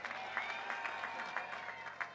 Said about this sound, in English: Welcome him with a Shogwanas round of applause.